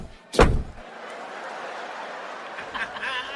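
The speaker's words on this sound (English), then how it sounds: "You hear 2 doors shut." One hard car door slam rings out close by during a mock police traffic stop, followed by a fainter thud and a steady low murmur of background noise.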